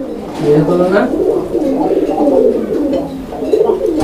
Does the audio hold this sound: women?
no